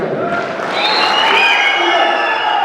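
Fans cheering and applauding for Shivanna at a Kannada event, a dense continuous roar of crowd noise with clapping and shouts, loud and steady throughout.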